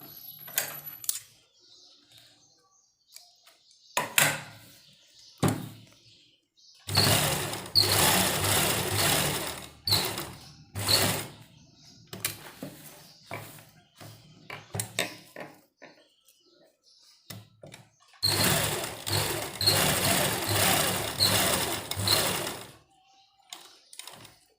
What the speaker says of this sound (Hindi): किनारे किनारे पर हमें इसकी सिलाई लगानी है